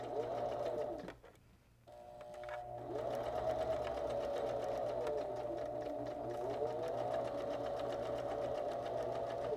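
A sewing machine runs close up, hemming thick denim jeans. Its motor whirs steadily with a rapid stitching rhythm, drops off and pauses briefly near the start, then picks back up and keeps running.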